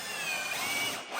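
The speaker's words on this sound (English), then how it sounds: "I'll go ahead and screw this down with the smaller screws." A power drill driving self-tapping screws into a plywood workbench top, one steady high whine held close for about a second before it briefly dips at the end.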